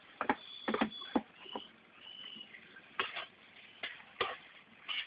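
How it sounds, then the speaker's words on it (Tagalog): A utensil clatters in a cooking pot as onions and garlic are stirred into coconut-milk stew with meat. Irregular scraping knocks come in quick bursts and then spaced single hits, close and fairly quiet, with no speech. "Haluin ito nang sa ganon ay masama ang mga sibuyas at bawang sa ating lulutuin."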